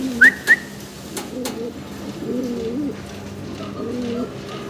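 Fancy pigeons coo softly in low, rolling bursts, with a couple of sharp whistle-like chirps near the start, heard close by against a quiet background.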